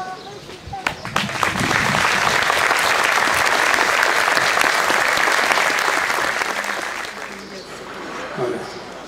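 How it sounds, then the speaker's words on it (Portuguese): Applause at the inauguration of a cultural and recreational association: a large audience claps steadily and loudly for several seconds before slowly fading. "aplauso"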